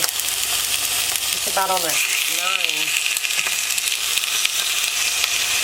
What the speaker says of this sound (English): we're just going to lay these in the pan and sear them on each side